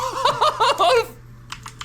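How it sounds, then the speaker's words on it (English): Rapid clicking of typing on a computer keyboard during a livestream, a short burst of keystrokes after a woman's laughter, fairly close but quiet. "she's still typing and stuff."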